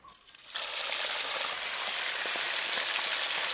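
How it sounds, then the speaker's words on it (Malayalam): Quail pieces frying in hot oil, a steady loud sizzle that bursts in abruptly and holds continuously with no talking. "അത് കഴിഞ്ഞിട്ട് നമുക്ക് കാട എടുത്തിട്ട് ഫ്രൈ ചെയ്യാം."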